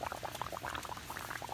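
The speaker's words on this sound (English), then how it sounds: "that's the water underground and now bubbling up." Dense bubbling and gurgling of floodwater rising up from underground after Hurricane Harvey, continuous small pops and blips close by, steady throughout with no voices.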